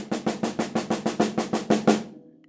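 A drum kit plays an even, straight, non-swung beat, about ten evenly spaced hits with a steady low thump and bright cymbal wash, ending with a short decay.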